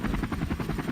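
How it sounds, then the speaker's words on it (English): An Airbus H145 twin-engine helicopter gives a steady, rapid rotor thump over a broad engine roar, heard continuously and at moderate loudness. "The H-145 is a twin-engine aircraft"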